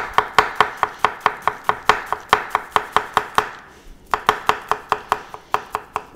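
Rapid, steady chopping of onions with a Jikko 210mm bullnose knife on a cutting board, crisp close knocks in a quick even rhythm, pausing briefly midway before resuming, with no talking.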